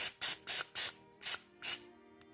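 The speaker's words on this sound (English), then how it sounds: "just spray it, making sure you got all the edges." Pam cooking spray hissing in five short, bright bursts as it coats the inside and edges of a measuring cup, close and fairly loud with brief quiet gaps between sprays.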